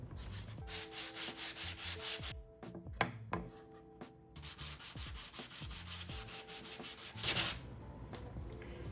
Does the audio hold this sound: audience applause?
no